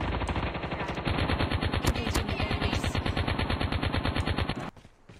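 Light machine gun fire in Call of Duty, a loud, sustained rapid burst of automatic shots lasting nearly the whole stretch before cutting off abruptly near the end.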